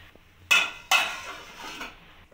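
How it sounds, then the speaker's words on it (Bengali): A metal pot lid lifted off cauliflower curry, two sharp clanks of metal on metal about half a second apart, followed by a brief ringing and softer rattle that fades out. "এবার ঢাকাটা খুলে দেখে নেব।"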